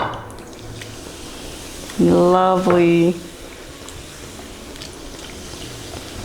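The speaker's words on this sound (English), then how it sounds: "All right, so pour in your Coke." Coca-Cola poured into a pan of ribs during barbecue prep, a short gurgling glug of liquid lasting about a second, then a quiet room where a voice briefly speaks.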